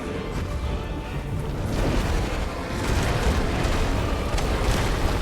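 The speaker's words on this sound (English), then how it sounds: "Hold it and release R2 plus square to emit a violent explosion." The Brimstone ability in Final Fantasy XVI unleashes a violent explosion: a dense, sustained roaring rumble that swells slightly partway through and stays loud throughout, with no talking.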